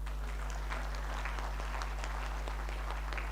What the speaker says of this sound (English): let's keep clapping for Mr. Opole.